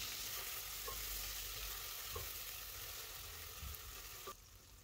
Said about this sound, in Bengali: পেঁয়াজটার একটু মশলার সাথে ভালোভাবে মিক্স করিয়া কষাই নিব।